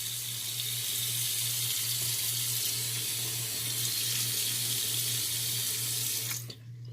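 Tap water pours steadily into a sink for a post-shave rinse, a loud, continuous close splash that stops abruptly near the end.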